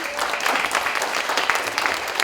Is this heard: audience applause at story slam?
yes